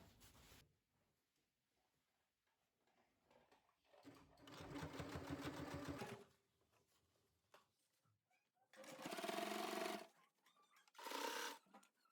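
A sewing machine stitches a reversible tubeteika skullcap in three separate runs of rapid, even whirring, each a couple of seconds long, with quiet pauses between them and no talk.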